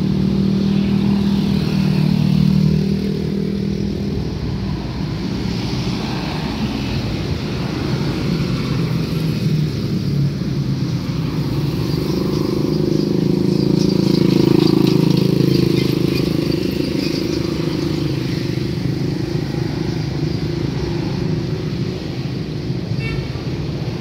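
Road traffic streams steadily past on the Pantura highway at Cikopo, West Java, with buses and cars, a continuous near engine drone that swells as a heavy vehicle goes by mid-way, with no talking.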